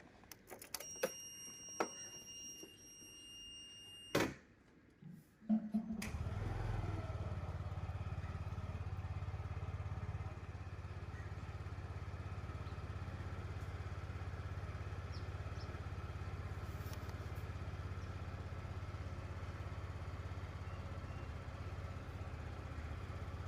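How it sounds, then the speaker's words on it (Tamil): A delivery rider's motorcycle starts in the morning: a few beeps and clicks, then the engine catches and settles into a steady, close, low idle rumble that runs on alone. "காலைல வண்டி ஸ்டார்ட் பண்ணிவிடுவோம்."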